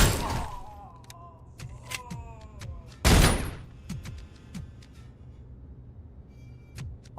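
In the RoboCop: Unfinished Business arcade game, sharp gunshot blasts ring out, with two big explosive bursts and scattered single shots and thuds, along with tonal game effects.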